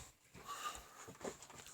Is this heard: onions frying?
no